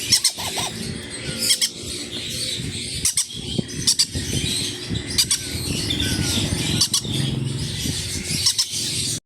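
Loud, harsh squawks from green-cheeked conures ring out close by in repeated bursts, mixed with rapid chirps and squeals over a steady background of bird chatter.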